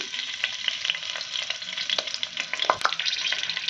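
Half a spoon of mustard seeds and a couple of lengthwise-slit green chillies fry in hot oil, giving a steady bright sizzle with scattered sharp crackles and pops, close and uninterrupted by talk.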